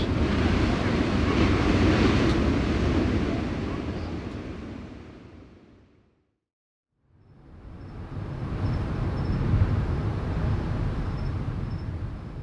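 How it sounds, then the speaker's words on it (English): Big Pipeline swell surf crashes near a house, a loud roaring wash of breaking waves with wind that fades to near silence midway, then surges back up and rolls on steadily. "The waves are so big, they're shaking the house."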